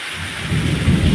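Deep rumble of thunder building over heavy monsoon rain pouring down in the Gir region, loud and close.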